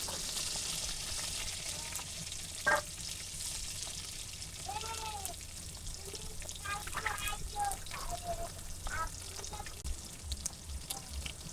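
Sweet pumpkin pieces fry in a pan with salt and a pinch of turmeric, giving a constant, moderate sizzle. Faint voices and an occasional knock sound over the frying.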